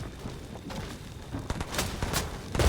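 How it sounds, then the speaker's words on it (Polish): Gunfire from another player in a video game, shown as scattered faint shots and sharp bursts in the distance that grow a little louder toward the end, over quiet background noise. "A ktoś jeszcze strzela? Tam z pleców."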